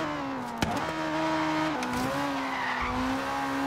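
A Ferrari 488 GTB in Forza Horizon 3 holds a loud, steady engine drone, then downshifts with a sharp blip and pitch drop as it enters a corner, with brief tire scrub.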